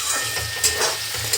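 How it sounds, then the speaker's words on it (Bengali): Potatoes with onion and green chilli frying in a pan give a brief, steady sizzle with a few light stirring scrapes. "আলুটা ভাজছি, আলু পেঁয়াজ কাঁচা লঙ্কা দিয়ে ভাজছি।"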